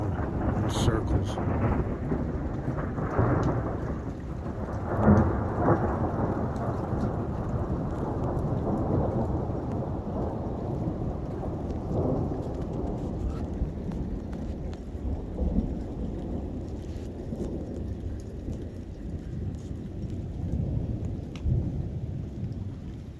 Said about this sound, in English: it's thundering around.